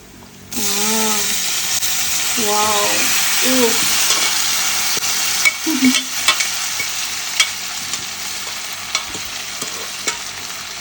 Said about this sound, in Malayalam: നെയ്യ അങ്ങനെ ബീഫ് റോസ്റ്റ് റെഡിയായിക്കൊണ്ടിരിക്കുന്ന കാഴ്ചയാണ് ഇത്